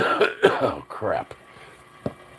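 Several harsh coughs in quick succession, close and fairly loud, followed by a pause and one last short cough.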